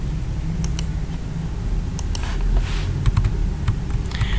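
Typing on a computer keyboard, close, sparse clusters of light key clicks in short irregular bursts over a low background hum.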